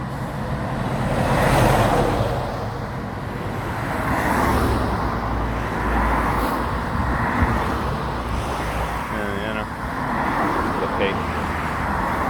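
Road traffic rumbles past in waves, cars swelling and fading every few seconds, with someone talking over the noise.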